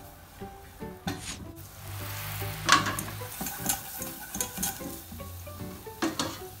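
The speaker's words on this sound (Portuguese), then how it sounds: "E aos poucos você vai entrando com o caldo e vai mexendo" A spoon stirs a butter and wheat flour roux in a pan while broth is added bit by bit. Gentle sizzling runs under soft scraping and occasional clinks of utensil against the pan.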